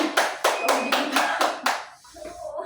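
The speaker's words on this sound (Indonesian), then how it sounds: "Tepuk tangan, tepuk tangan." Six crisp, evenly spaced hand claps from a group in a classroom microteaching session, loud and close, then a short quieter tail with faint background sound.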